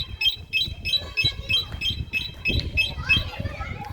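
An Arora CRV 125 motorcycle alarm, triggered by touching the bike, chirps in a quick regular series of about a dozen high beeps, close by, over low background noise.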